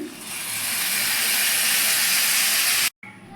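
A loud, sustained hiss of steam rises as hot water goes into a hot pan of fried rice for Bengali Basanti pulao, close and continuous before cutting off abruptly near the end.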